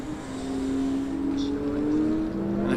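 A Formula Student race car on a skidpad gives off a steady, distinctive whine from its gearbox or differential, a sustained mid-distance tone that rises slightly in pitch as it corners.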